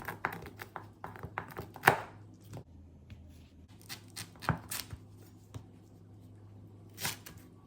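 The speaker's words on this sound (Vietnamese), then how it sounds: "Mình cắt ra từng khúc vừa để mình cho vào trong nồi." A knife chops lemongrass stalks into pieces for a Bún Bò Huế soup, giving close, crisp, irregular cuts, some quick clusters and a few louder thwacks, over a faint kitchen hum.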